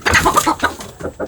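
Chickens cluck in quick, close bursts inside a coop, several short calls over about a second.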